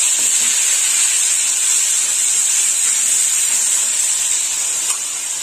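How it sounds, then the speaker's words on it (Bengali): Onion paste hits hot oil in a pan, giving a loud, even, hissing sizzle that holds steady for several seconds, close and alone. "এই তেলেই আমি পেঁয়াজ বাটা দিয়ে দেবো।"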